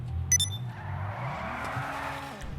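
Engine of a classic car in Grand Theft Auto V, a steady low rumble running the whole time with a couple of brief high beeps near the start.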